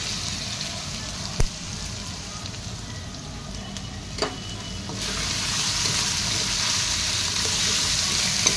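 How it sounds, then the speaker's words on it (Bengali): Chopped onions hit hot spice paste with ginger in a pan and sizzle steadily, the frying hiss growing fuller and louder midway, with a couple of faint clinks. "তারপর আমরা দিয়ে দেবো কেটে রাখা পেঁয়াজগুলো।"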